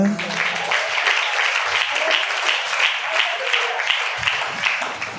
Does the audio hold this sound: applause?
yes